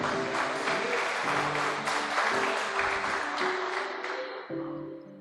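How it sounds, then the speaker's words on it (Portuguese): Church congregation at a youth service applauding in praise, a broad, steady wash of clapping throughout with faint voices and some tonal sound underneath, tapering slightly toward the end. "A salva de palmas para o Senhor Jesus."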